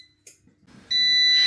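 An air fryer, set to 200 Celsius for ten minutes, gives a loud sustained electronic beep after a soft button press, close and clear in a quiet kitchen.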